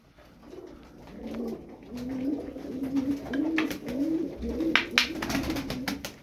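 Sarı Kır game pigeons coo in a steady run of soft, low, rolling calls, several birds overlapping at close range, with faint rustling and a few brief clicks and scuffs in between.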